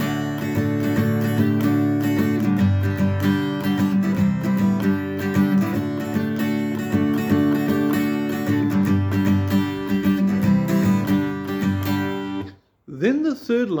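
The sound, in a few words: guitar chords, first and second lines of a song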